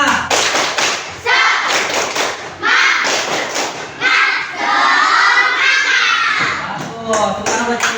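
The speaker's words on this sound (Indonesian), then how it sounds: "Tepuk semangat." A class of schoolchildren in an Indonesian classroom claps a rhythmic cheer together in loud bursts of claps with shouted chanting over them, close and energetic, breaking off at short pauses.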